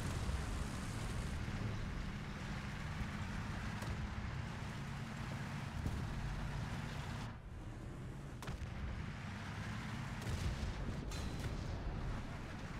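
Tank cannon fire in War Thunder, around an OBJ 279 tank: heavy booming shots over a constant rumbling engine drone, several sharp blasts spaced across the stretch, no talking.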